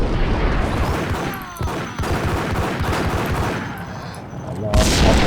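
Dense gunfire crackles nonstop in the Max Payne video game, and a louder burst near the end marks an oxygen tank exploding amid the shooting, all loud and close.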